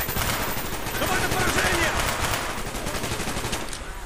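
Continuous, dense automatic gunfire in Call of Duty Black Ops, loud bursts overlapping into an unbroken barrage of shots throughout.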